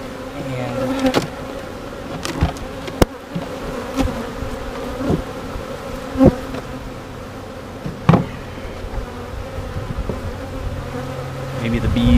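Dense, steady insect buzzing from many honeybees close by around an open hive, with occasional sharp knocks and thumps over the continuous drone.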